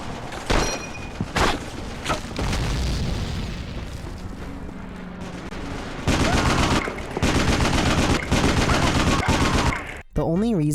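Rapid bursts of video game gunfire, including M1 Garand rifles, crackle loudly and almost without pause, sharp reports stacking into dense volleys over a rumbling background, ending with a brief wavering electronic tone.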